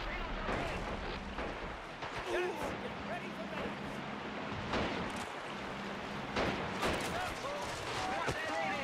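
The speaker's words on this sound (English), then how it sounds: "I got the mortar out." Mortar and artillery fire in the World War II strategy game Men of War: Assault Squad, a steady wash of booms and blasts under a dense, busy battle din, with players talking over it.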